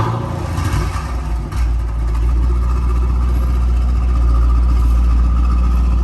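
An LS3 V8 in a Holden Chevy SS fires up for the first time, a loud, close, deep rumble that settles into a steady, heavy idle with a slight rise in revs, no voices over it.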